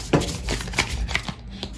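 Tarot cards being shuffled close by in a rapid series of soft riffling taps and slaps, moderately quiet and without speech.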